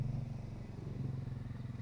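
A motorcycle rumbles close by on a narrow village lane, a steady pulsing engine throb lasting throughout with slight wavering in loudness.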